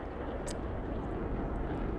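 F-22 Raptor jet from the Broken Arrow war game, a steady broad engine roar droning throughout at moderate level with no talk.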